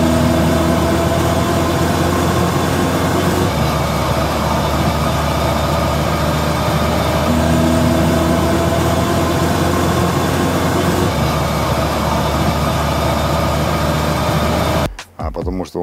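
A worn gearbox with metal filings in it hums loudly while the vehicle drives, a continuous steady drone with a tonal whine that runs unbroken and then cuts off abruptly at the end.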